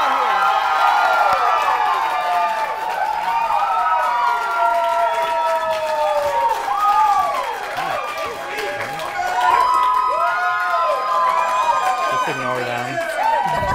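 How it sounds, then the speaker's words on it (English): A crowd at a live bachelorette-style stage show cheers wildly, with many overlapping whoops, shouts and rising and falling yells that stay steady and loud throughout, plus some scattered clapping. "And the crowd goes wild."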